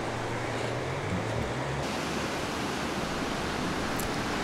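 Waves at a beach form a steady, dense wash of surf noise, continuous and fairly loud, with no distinct breaks or voices.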